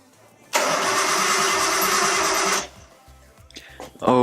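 A Nissan RB20 engine with a suspected bad cam angle sensor cranks loudly for about two seconds with a fast, even churning whir, then stops without catching, followed by a few faint clicks.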